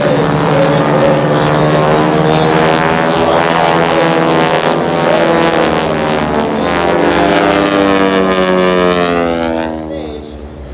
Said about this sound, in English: the Aeroshell aerobatic team is straight up to its